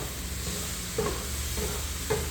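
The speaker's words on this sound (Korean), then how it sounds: "이렇게 두글두글 볶고 있잖아요." Garlic scapes stir-fry in a hot pan with a constant close sizzle, punctuated by three regular scraping strokes of the utensil, and no one speaking.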